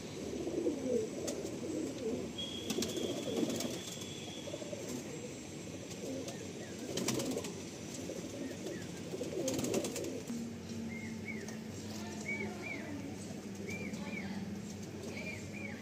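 Tiger line pigeons coo softly in a loft, low repeated murmurs under a steady background hum, with a few brief higher bird calls and a faint sustained tone.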